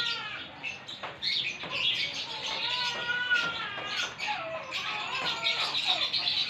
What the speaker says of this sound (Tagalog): Ang ingay naman ng background. May mga ibon.